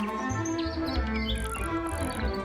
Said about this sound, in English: An especially fancy cage. And it's home to 3 especially fancy birds.